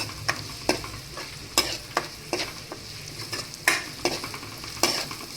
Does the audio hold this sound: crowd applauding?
no